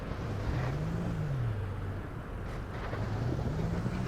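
Low engine drone from a car driving around a house in the video game Easy Delivery Co., with a steady tone that gently rises and falls in pitch under a constant wind-like hiss.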